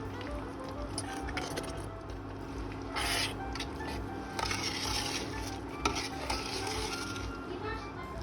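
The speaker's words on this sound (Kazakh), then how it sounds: "Енді осы қайнап жатқан сиропта 5-7 минут қайнатып аламыз." Gooseberries boiling in syrup for jam, a steady bubbling, sizzling simmer close by with occasional stirring and light knocks of a utensil against the pot.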